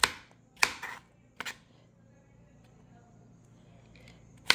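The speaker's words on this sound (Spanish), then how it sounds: "Miren, vamos picando la calabaza. Son pedazos pequeños." A knife chops squash into small pieces on a board, with four or five sharp, separated cuts spread out at irregular intervals against a quiet background.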